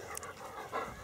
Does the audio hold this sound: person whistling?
no